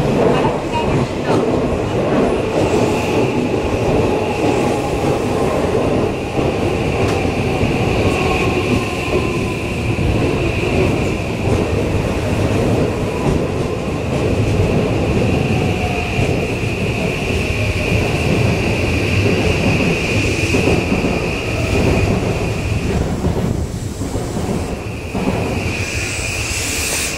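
An Odakyu electric commuter train rumbles steadily into Mukōgaoka-Yūen station with a sustained high whine and low mechanical roar, loud and close throughout.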